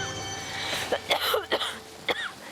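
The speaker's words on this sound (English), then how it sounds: "stop coughing" A sick person with bronchitis and pneumonia on a storm-hit island coughs several times in quick, harsh bursts close by, with rough throaty breaths between the coughs.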